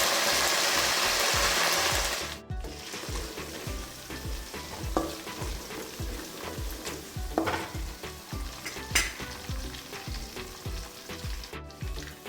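Ginger, garlic and green chillies frying in oil with browned onions for lemon pickle, a loud hissing sizzle at first, then a softer steady sizzle with rhythmic stirring scrapes.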